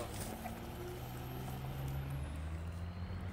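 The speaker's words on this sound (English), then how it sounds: "I can just hear like trucks driving about." Trucks driving about in a War Thunder hangar, heard as a steady low engine rumble with a faint high whine, distant and quiet, with no talking.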